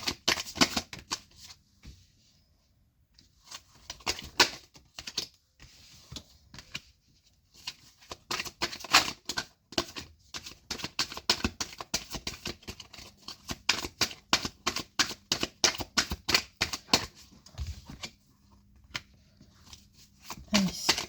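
Cards shuffled for a card reading: repeated quick riffling and flicking bursts in uneven runs, fairly close and quiet, with brief pauses between shuffles and a voice heard at times.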